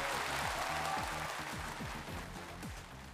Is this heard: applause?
yes